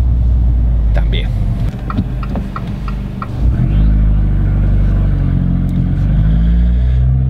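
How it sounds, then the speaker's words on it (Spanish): Abarth 595C Competizione with 180 hp, its engine rumbling loud and close from inside the car as it accelerates, a deep steady exhaust drone with some revving. "Para que también escuchéis el escape"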